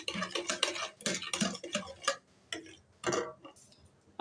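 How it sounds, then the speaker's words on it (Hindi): Cake batter being mixed by hand in a bowl, with quick, irregular scraping and clinking strokes close by, each broken by short pauses. "इस तरह से इसको मिक्स करना है।"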